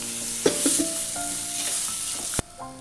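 Onion paste sautés in hot oil, a steady close sizzle broken by a few sharp utensil knocks against the pan, one near the start and a louder one toward the end.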